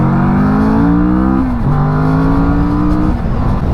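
Kawasaki Vulcan S cruiser motorcycle on the road, its engine note climbing through a gear, dipping at a shift, then rising again, steady and close with no talk.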